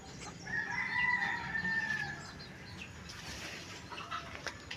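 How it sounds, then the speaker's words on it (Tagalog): A rooster crows once over background clucking from several chickens, moderately close, with no talking. "Aba, ay doon pala nahapon ang mga manok."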